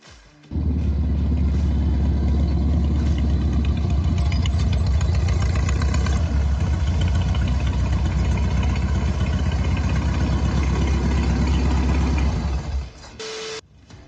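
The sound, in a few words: engine idling of 1968 Volkswagen Beetle hot rod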